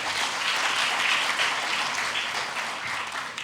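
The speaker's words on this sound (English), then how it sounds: "Give him a round of applause." An audience at a debate on whether the Bible is divine revelation gives a speaker a sustained round of applause, loud and even throughout, with no voices over it.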